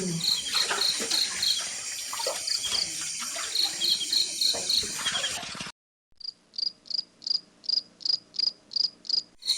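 Crickets chirp inside a cave, first as a dense shrill chorus, then after a brief silence as a clear series of regular, evenly spaced pulsed trills close by.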